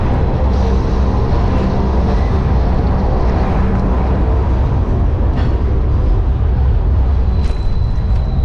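A train passes near the Virginia Capital Trail, filling the scene with a loud, continuous rumble and rolling clatter that holds steady throughout, with occasional higher squeaks near the end.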